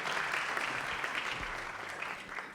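An audience applauds composer Bruno Pernadas at a film festival screening, a dense, steady wash of many hands clapping close and loud throughout, with no voices over it.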